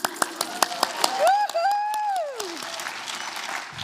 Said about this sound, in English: I didn't hear people shout and clap at 10 years.